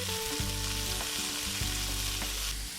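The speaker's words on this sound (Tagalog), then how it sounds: "Nakapag-isa na ako mga kabukids ng bawang sibuyas at maglalagay din ako ng carrot." Garlic and onion sizzle loudly in a hot pan, a dense continuous frying hiss with a low hum beneath and a couple of brief utensil knocks.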